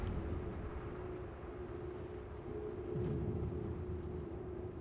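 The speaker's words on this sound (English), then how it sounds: "Look at this stupid dust storm." Dust storm in the video game Star Citizen, a continuous low rumbling roar with a steady droning tone and a brief swell partway through, heard alone without talk.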